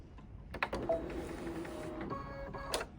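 An embroidery sewing machine stitches a witch's hat design with a steady mechanical whirring and rapid needle clatter, close and continuous with a few sharper knocks.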